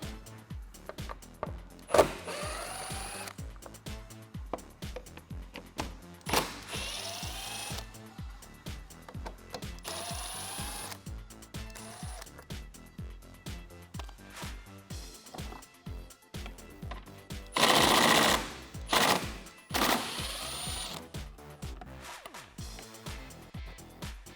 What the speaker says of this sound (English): I'm going to use a 10mm socket and an extension.